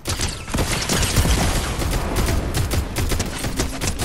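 Gunfire in the Fortnite video game, a dense burst of sharp shots and clattering game effects over a busy, noisy mix, with no talk.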